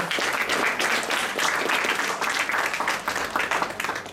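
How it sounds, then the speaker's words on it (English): Audience applause after an energetic performance at a speaking-club meeting, a dense, steady burst of many hands clapping together, fairly loud and sustained throughout with no voices over it. "Once again, a round of applause for that energetic performance."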